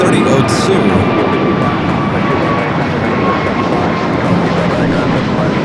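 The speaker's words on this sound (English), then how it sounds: "First the flight coming in from Taipei." Starlux airliner arriving from Taipei at Los Angeles airport, a loud steady jet engine roar close overhead with broadband rumble, a faint tone running through it and a brief higher sound at the very start.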